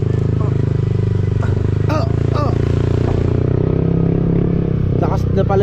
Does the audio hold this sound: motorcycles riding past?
yes